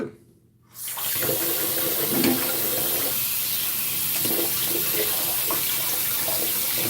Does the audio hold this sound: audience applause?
no